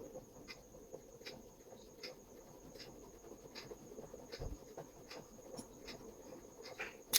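A pencil scratches quietly across paper, marking waist, hip and knee lines on a skirt pattern in short, uneven strokes, close and faint with no talk.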